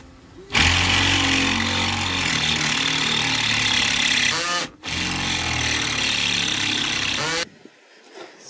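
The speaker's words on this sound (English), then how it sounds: "powerful jigsaw. Jigsaw." A powerful jigsaw cuts through material during a school bus tiny home conversion, a loud, close, steady buzzing whine running for several seconds, briefly stopping and restarting, then cutting off.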